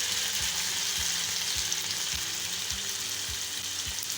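Chicken malai tikka sticks shallow-fry over high flame, giving a steady, dense sizzle of hot oil with soft rhythmic thumps in the background, close and continuous.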